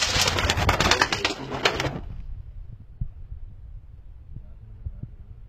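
Pigeons coo in a loud, busy outdoor moment with clattering bursts, then settle into faint, low intermittent cooing.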